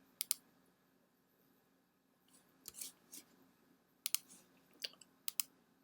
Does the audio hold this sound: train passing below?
no